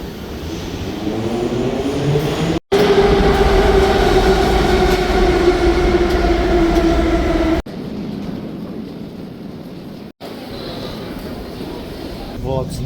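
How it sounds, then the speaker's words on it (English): A Saint Petersburg metro train runs loud and steady underground, its low rumble and rising motor whine filling the car, with sharp cuts between short sections and quieter stretches of hum. "Yeah, this is a nice metro."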